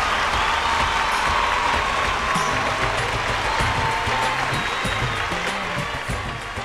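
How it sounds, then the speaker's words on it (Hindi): A studio audience at a Bhojpuri music competition show applauds and cheers, a full, sustained wash of clapping with some crowd noise running steadily before easing slightly at the end. "जोरदार ताली से स्वागत करे के"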